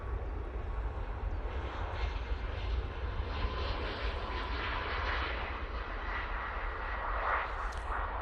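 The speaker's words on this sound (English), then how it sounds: "Ryanair 737 MAX 8 departing there." A Ryanair Boeing 737 MAX 8 departs Manchester Airport, its engines producing a steady, broad roar heard from a distance throughout, with no talking.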